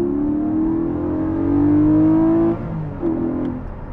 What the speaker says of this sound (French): Vous allez pouvoir entendre le son du flat 6 valve ouverte.